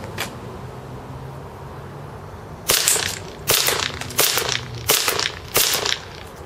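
Five sharp, evenly spaced shots from a propane-powered KWA NS2 Sig Sauer P226 airsoft pistol firing .2 g BBs at a target 50 feet away, each a crisp pop with a short tail, over steady outdoor background noise.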